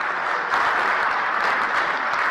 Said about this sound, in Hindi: अरे ताली बजाओ तो जरा ढंग से बजाओ